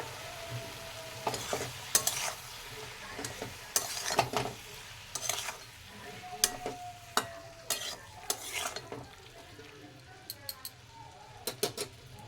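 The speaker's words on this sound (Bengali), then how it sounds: "সবগুলোকে ভালো করে নাড়িয়ে নেব।" Chili chicken mixture being stirred in a pan, with repeated spatula scrapes and taps over a soft steady sizzle, fairly close, no talking.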